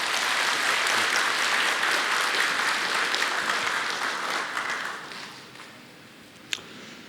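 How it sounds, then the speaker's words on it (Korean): Sustained applause from the audience at a dental association's annual delegates' general assembly in Jeju, loud and dense for about five seconds, then fading out with a single sharp clap near the end. "박수 한번 부탁드리겠습니다"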